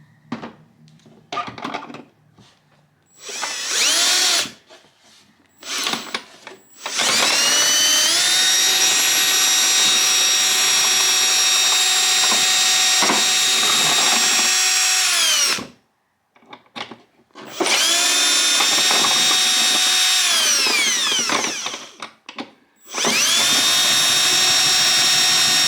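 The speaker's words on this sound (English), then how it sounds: "they have a drill and they're gonna try and drill this lock out" Power drill boring into a lock on an external hard drive enclosure, whining in long sustained runs with brief pauses between, loud and close with pitch sagging under load.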